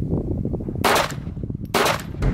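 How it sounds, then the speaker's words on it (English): Walther P22 pistol firing two .22 Long Rifle shots, CCI Mini Mag rounds, two sharp loud cracks about a second apart with short echoing tails, outdoors at a body armor test. "first thing we're gonna shoot is the Walther P22."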